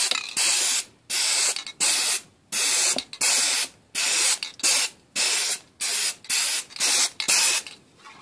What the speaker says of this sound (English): This one I'm just going to take and spray it on normal.